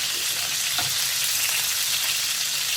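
Meatballs browning in a pan of frying oil for a korma, a steady loud sizzle and crackle close up, continuous with faint stirring.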